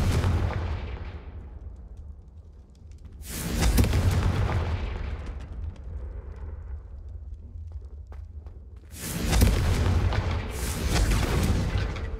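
Booming blasts from the Confingo explosion spell in Hogwarts Legacy burst out twice, with deep, rolling low-end thuds and quieter rumbling between them.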